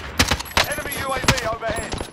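Gunfire in Call of Duty: Modern Warfare Warzone, a series of sharp shots spaced irregularly over two seconds at moderate distance, with a voice talking over them.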